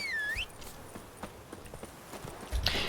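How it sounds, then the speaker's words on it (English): A summoned horse in the fantasy game Witcher III trots in with a short whistle first, then a steady run of light hoof clip-clops at close range, ending in a louder rustling burst. "so I'm gonna summon my horse."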